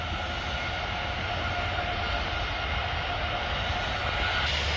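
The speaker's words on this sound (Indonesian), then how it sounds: "ini 529 dari Balikpapan baru mendarat" Airliner that has just landed after arriving from Balikpapan, its engines giving a steady, loud broadband roar with a whining hiss that holds unbroken throughout, no voices present.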